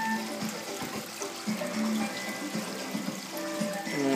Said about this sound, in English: Water goes all the way to the top.